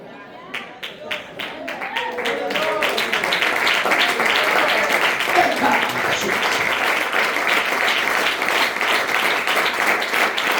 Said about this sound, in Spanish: palmas a Dios.